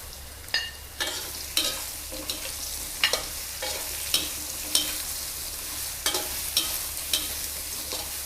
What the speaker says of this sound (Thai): ผัดเห็ดไฟต้องแรง